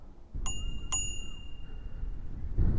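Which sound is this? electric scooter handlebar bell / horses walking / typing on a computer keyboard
electric scooter handlebar bell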